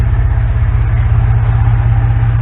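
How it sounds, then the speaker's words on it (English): Steady idle of a 2020 Ford F-150 twin-turbo V6 fitted with a twin intake kit and free-flow exhaust, a loud, close, even low rumble with a regular pulsing beat and no talk. "So I got a twin intake, twin turbo, with, of course,"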